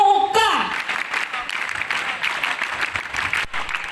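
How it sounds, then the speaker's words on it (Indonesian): Children at a school teacher-training session in Buleleng clap together in a scout-style clapping routine. The clapping is loud and dense and fills the room after a brief voice at the start. "Tepuk 1, tepuk 2, tepuk 3, tepuk pramuka."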